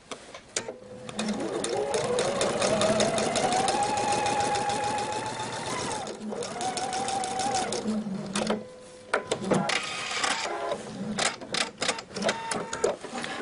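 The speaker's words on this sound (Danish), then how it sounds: "Og så kører på samme måde op langs med stregen igen." A sewing machine stitches a narrow seam along a marked line on a tunic shirt, running steadily and close for several seconds, pausing briefly, then running again before stopping into scattered handling clicks.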